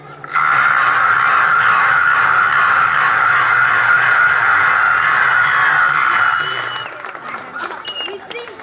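A stage performer at a Vinayaka Chavithi orchestra program imitates a whole flock of crows, producing a loud, continuous dense cawing chatter for about six seconds before it breaks off into quieter sounds.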